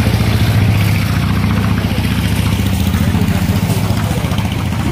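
A converted engine-powered van runs close and loud, its engine holding a steady, throbbing mechanical drone for the whole stretch with no pauses.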